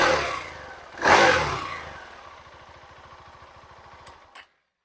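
A Husqvarna Svartpilen 701 single-cylinder motorcycle engine swells in one loud rev, then settles into a fast, steady idle pulse that cuts off abruptly near the end.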